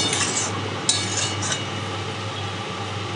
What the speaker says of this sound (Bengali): দিয়ে আমি ভালো করে একটু মশলার সাথে আমি পুরো মাশরুমটা মাখিয়ে নিচ্ছি